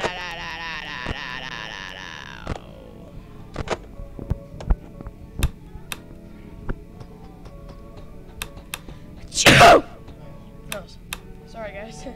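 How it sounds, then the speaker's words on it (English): Brief loud sneeze right into a microphone, a sharp burst near the middle, heard among quiet clicks and ambient sounds while playing Roblox Five Nights at Freddy's. "I just, like, sneezed at the mic."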